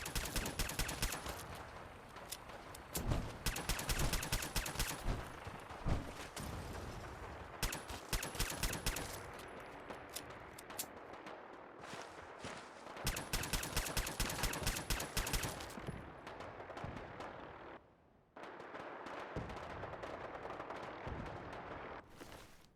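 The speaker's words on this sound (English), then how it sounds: "We go in shooting." Gunfire rattles through a Fallout 4 firefight in rapid automatic bursts broken by brief pauses, with sharp cracks and heavy rolling echoes filling most of the stretch at a steady, moderate loudness.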